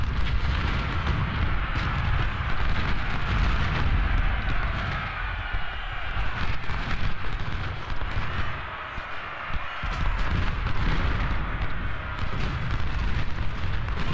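Artillery in the Ultimate General: Civil War video game fires as a dense, continuous rumble of cannon and musket fire at the Battle of Malvern Hill. The loud, layered booms roll on without a break, with no talking.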